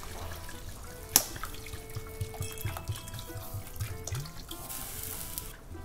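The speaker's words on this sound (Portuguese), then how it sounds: "Um pouco de água." Water is poured into a pan of frying chicken and bacon, giving a trickling, splashing liquid sound with a sharp hit near the start and a steady wash of sizzle and dribbling afterward.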